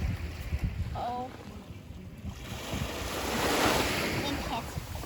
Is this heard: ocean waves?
yes